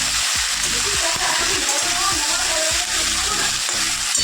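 Potato slices frying in a pan in a home kitchen give a steady, dense sizzle with stirring clatter throughout, close and fairly loud, while faint voices sit in the background.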